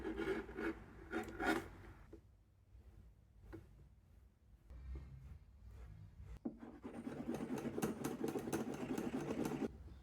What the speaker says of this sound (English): This edge probably does not look too nice, so we grind it, bevel it, re-dye it and burnish it.